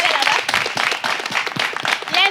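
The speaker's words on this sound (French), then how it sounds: "Applaudissez pour elle, elle est là-bas." A crowd claps in steady applause, dense and close, with scattered voices mixed into the noise.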